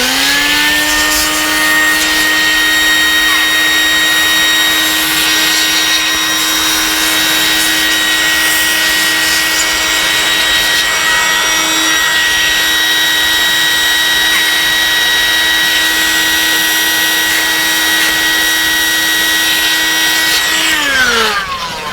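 A small motor runs steadily for about twenty seconds while dust is cleaned from a Toshiba Satellite C50D-B-120 laptop fan, giving a loud whining drone with a constant pitch that falls away as it winds down at the end.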